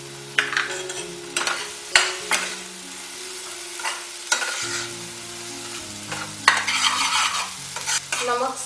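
Spices with garam masala and salt being stirred and fried in a pan, a soft ongoing sizzle broken by repeated scraping strokes of the spoon at an uneven rhythm, close and clear with no talking.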